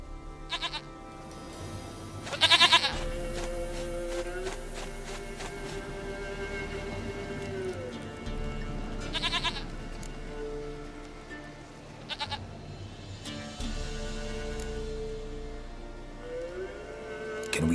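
A goat in the Witcher 3 game bleats several times, loud wavering cries at spaced intervals over a steady ambient background hum.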